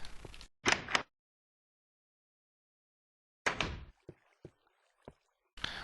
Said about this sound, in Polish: Zamykamy drzwi, żeby Tomek nam nie wszedł.